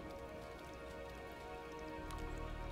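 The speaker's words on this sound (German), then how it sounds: "Oh, jetzt wird es aber auch Zeit für Regen." Steady rain in the video game Endzone - A World Apart, a continuous even patter of drops on surfaces running throughout with no talk, slightly fuller toward the end.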